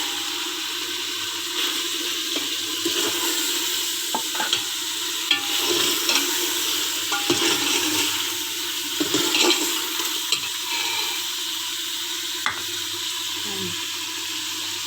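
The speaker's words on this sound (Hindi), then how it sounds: "तो अब मैं इसमें ये चिकन डालूँगी।" Chicken goes into sizzling masala in a pot for potato chicken curry, a loud continuous frying hiss with repeated stirring clatters and scrapes of a spoon, no speech.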